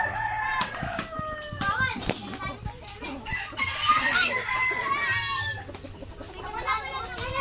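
Several chickens cluck and cackle close by while roosters crow, with a voice talking intermittently to the birds under their calls.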